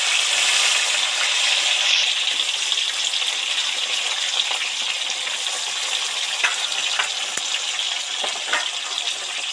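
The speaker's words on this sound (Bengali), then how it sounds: "কড়াতে তেল গরম হয়ে গেছে, সবার আগে ঢেঁড়স কটা তেলের মধ্যে দিয়ে দেব।" Okra dropped into hot oil in a wok, a steady loud sizzle and crackle with occasional sharper pops, continuous and close, no voices.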